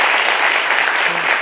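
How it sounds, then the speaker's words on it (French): A French television lunchtime show's studio audience applauds a departing guest with loud, sustained clapping from many hands, close and continuous without a break. "on va raccompagner notre invité avec les applaudissements, s'il vous plaît"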